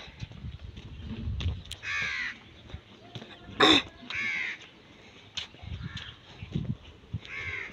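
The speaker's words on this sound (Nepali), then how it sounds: "काग कराउँदैछ" Several harsh crow caws ring out at intervals, moderately close, over a low rumble of outdoor background noise.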